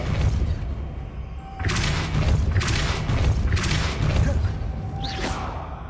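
Spell-casting effects from Hogwarts Legacy, the Depulso push spell, land as a series of loud bursts, each a whooshing blast with a deep thump that fades out, repeated several times over a low ambient rumble.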